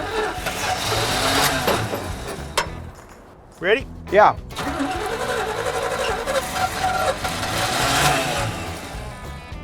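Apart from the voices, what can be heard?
old engine cranking and trying to start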